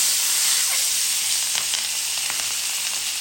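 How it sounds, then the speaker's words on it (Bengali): Rohu fish pieces fry in hot oil in a pan, a dense, loud, continuous sizzle with faint crackles, heard up close and alone. "দিয়ে দিলাম তেল মাছ ভাজার জন্য। তেলটা গরম হোক। দিয়ে দিলাম মাছটা।"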